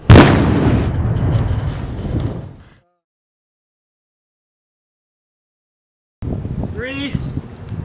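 An explosion test that produces a flame opens with a sudden loud blast. A rumbling roar trails off over a couple of seconds, then there is silence until voices begin talking.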